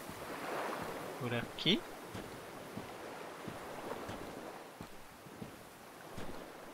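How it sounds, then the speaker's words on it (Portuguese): River water flowing below in the video game Dark Souls: a soft, steady wash of water like distant surf running throughout, under a few brief spoken words and faint game noises. "É um rio que tem aqui embaixo, não é?"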